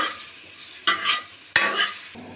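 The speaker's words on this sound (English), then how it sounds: "I am mixing it well." Food being stirred in a frying pan while cooking shahi paneer, a continuous sizzle broken by two loud scraping strokes of a spoon across the pan, close and without talk.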